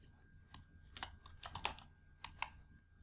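Quiet typing on a computer keyboard while entering a value into a spreadsheet: a handful of soft, irregular keystroke clicks close by, with no talking.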